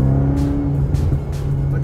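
A Mercedes-AMG GT Black Series, nearly new and under 1500 km, pulls away with a loud, close engine drone and a steady deep tone, plus a few brief swells in the exhaust roar.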